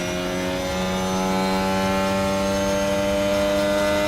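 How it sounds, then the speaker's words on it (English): A Formula 1 car engine in the F1 Manager 24 racing game drones steadily at high revs, a loud, constant tonal whine with no break. "that engine noise really does just detract so much."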